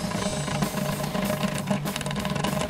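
A Saturn car running with a straight pipe exhaust idles with a raw, steady rumble and clatter up close, loud and even with no clear revving.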